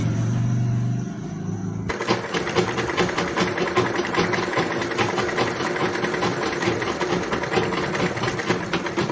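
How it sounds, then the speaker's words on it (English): Sewing machine stitching a seam on Yoruba iro and buba fabric, a low hum for a moment before breaking into loud, rapid, steady stitching that runs on without pause. "rotate your needle again and sew it downward, not forgetting to reverse your stitch at the edge"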